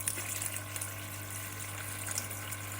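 Hot water running steadily from a kitchen tap into a sink while preparing a frik soup recipe, a continuous close splashing stream with a low hum beneath it and no talking.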